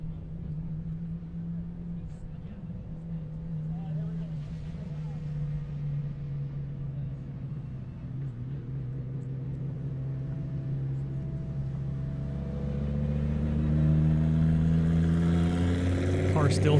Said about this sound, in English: Car still sounds amazing